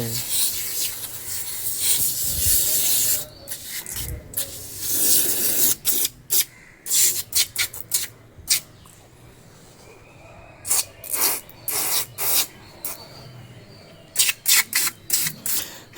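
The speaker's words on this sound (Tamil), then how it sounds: "ஏதோ ஸ்ப்ரே மாதிரில கொட்டுது" A helmet cleaner sprays out as foam in short hissing bursts, several quick spurts separated by pauses after a longer continuous spray, close and fairly loud.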